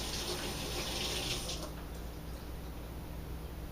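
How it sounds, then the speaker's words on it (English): Tap water runs steadily while hands are rinsed under it in a home kitchen, a soft continuous hiss and splash at close range that eases slightly partway through. "I want to rinse my hands real quick"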